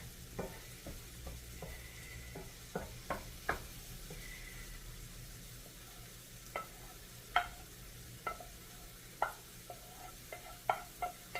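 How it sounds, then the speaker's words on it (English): Quiet scraping and knocking of a spoon stirring pre-browned sausage in a pan, scattered taps over a soft sizzle, no talking. "Here is the sausage that I've already browned up ahead of time. Give us a little stir."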